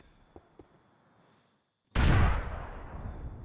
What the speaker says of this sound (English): There's lots of explosions.